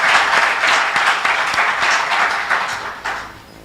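Crowd applauding at a Nakuru county government launch event for young entrepreneurs, a dense, steady wash of many hands clapping that holds at full strength throughout, then eases slightly near the end.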